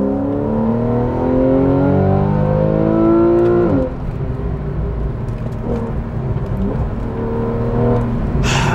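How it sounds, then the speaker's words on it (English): A Porsche 911 Carrera engine revs and builds up hard under acceleration, its rising harmonics climbing loudly before a shift, then the roar settles into a steady, close drone while the car keeps pulling. "It doesn't get better than a 911. Listen to that buildup."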